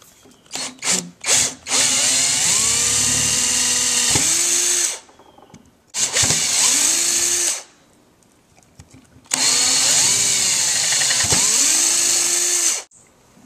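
A power drill whines in three long bursts separated by short pauses, loud and close, its pitch dipping as it bores holes into a metal piston.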